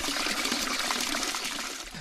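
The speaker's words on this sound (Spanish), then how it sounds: "el ruido del agua que estáis escuchando de fondo" Running water trickles steadily in the grounds of a palace in Palma del Río, Córdoba, a continuous broadband wash that stays fairly close and even throughout, with no voices.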